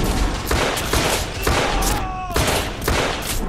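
Repeated gunfire in the video game The Order: 1886, heavy shots and short volleys landing in quick succession, loud and close with a dense layered action soundtrack behind them.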